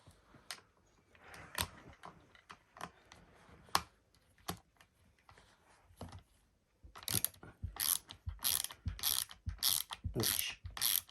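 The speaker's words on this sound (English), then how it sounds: "So this is a Phillips head screwdriver I'm using" A Phillips screwdriver works the trigger guard screws out of a BSA R12 CLX PRO air rifle, giving close, crisp ratcheting clicks and scraping turns, sparse at first, then quicker, louder bursts of clicking.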